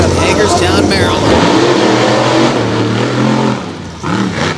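Monster trucks racing at an arena event, a Ford truck jumping, with loud roaring, revving engines under excited commentary.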